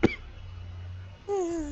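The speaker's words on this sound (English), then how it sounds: "That cough is getting to you, man." A single sharp cough bursts out at the start during a tactical shooter game session, followed by a low hum and then a tonal in-game sound.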